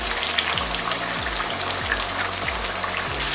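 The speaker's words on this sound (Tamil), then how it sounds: "எண்ணெயிலேயே ஒரு 5 நிமிஷம் நல்லா வதக்கிக்கோங்க அப்போதான் அந்த பச்சை வாசனை எல்லாம் போகும்" Masala sizzles steadily in hot oil for a Salem-style pepper egg gravy, a continuous close frying hiss with no voices.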